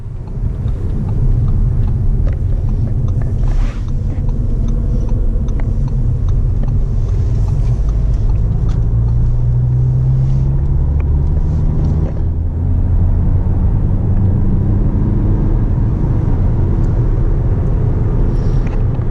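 Constant low engine rumble and road noise from inside a 2020 Audi A3 Sportback S-Line S-Tronic cruising at speed on a motorway, steady throughout with no talking.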